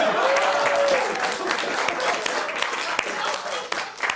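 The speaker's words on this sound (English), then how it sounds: "A big round of applause for Gimli" Audience at a comedy roast claps and cheers continuously, a dense, steady wash of applause with a brief voice tone near the start.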